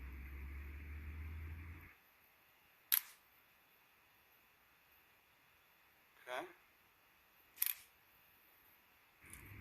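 An Asahi Pentax S3 film camera under repair fires its shutter in several crisp mechanical clicks, loud, close and spaced apart, after a low hum stops.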